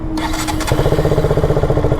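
A KTM RC 200 motorcycle engine cranks and catches, settling into a steady, loud, close idle with a rapid pulsing rhythm, no talk over it.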